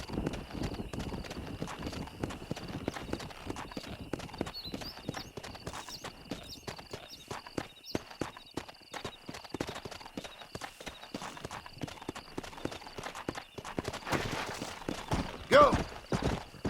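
Horse hooves clip-clop in Red Dead Redemption in a steady, rapid rhythm, close and fairly quiet, continuing throughout with a brief brighter burst near the end.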